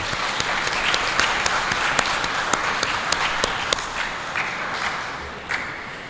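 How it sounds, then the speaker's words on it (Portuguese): A church congregation at a Sunday service applauds, with crisp individual claps over a continuous bed of clapping that fades gradually over roughly six seconds. "Otro aplauso."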